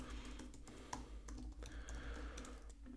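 Fingers tapping on a computer keyboard while working in a Microsoft Excel spreadsheet, a quiet, irregular run of close clicks and keystrokes over a low hum, with no talk.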